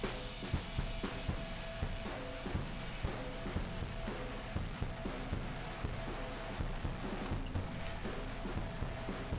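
The Airwindows Disintegrate plugin with many stacked layers produces a dense, gritty, continuous wash of crackling, degraded texture with constant irregular clicks, steady in level throughout.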